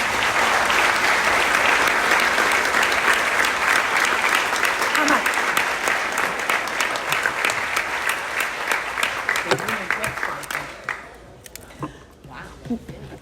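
Banquet audience at a women's basketball hall of fame dinner applauds the standing Executive Committee, a loud sustained wash of clapping that thins to scattered claps toward the end, with faint voices underneath.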